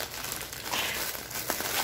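Crinkly packaging is unwrapped in a steady, close crackling rustle that runs throughout without a break.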